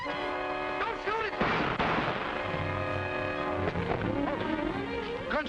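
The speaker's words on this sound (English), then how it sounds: "Gunshots!" Two sharp gunshot bangs crack out close together amid raised, agitated voices and a busy background in the 1944 film Gambler's Choice.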